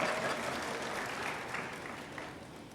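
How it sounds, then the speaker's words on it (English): A graduation audience breaks into applause, a broad, even wash of many hands clapping in a large hall, heard at a distance and fairly faint, sustained throughout. "that's another opportunity for applause."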